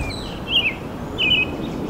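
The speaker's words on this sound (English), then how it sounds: "what we're looking for are the secretive birds, the birds that you don't really see very easily" Two short, high chirping calls from secretive birds in a wetland habitat during a bird survey, separated by about half a second, moderately distant over a steady outdoor hiss.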